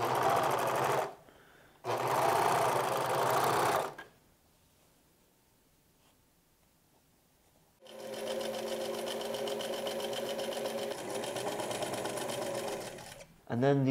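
Sewing machine stitching seams on slacks, running in two bursts, a short one and then a longer, steady whirring run after a quiet pause, with talking at the start.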